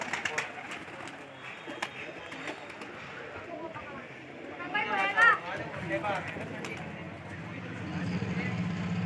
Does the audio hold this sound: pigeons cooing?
yes